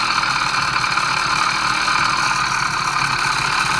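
A stock piston-port engine fitted with a high-performance carburetor runs steadily at about 2000 RPM, a loud, even, buzzing drone close by with no variation and no talking.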